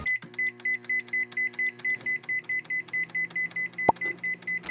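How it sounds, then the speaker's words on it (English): A microwave oven runs with a steak inside, its steady hum pulsing in an even, repeating rhythm under a regular high tone, with one brief sharp click near the end. "We're gonna add our steak to the microwave."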